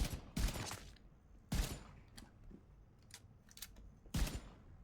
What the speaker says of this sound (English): I didn't even shoot him in the head and I one-tapped him